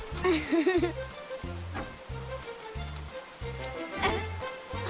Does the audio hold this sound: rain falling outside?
yes